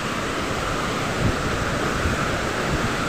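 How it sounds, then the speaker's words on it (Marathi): Rough, churning sea surf on the Konkan coast near Khavne, a steady dense roar of crashing waves close by, with no talk over it. "खूप जोरात खवळलेला आहे समुद्र"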